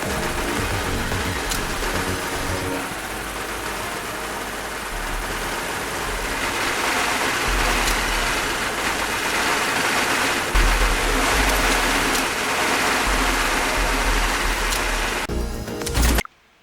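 A Waterfall attack in One Step From Eden: a continuous, dense rush of water rolls on steadily for about sixteen seconds and cuts off abruptly at the end.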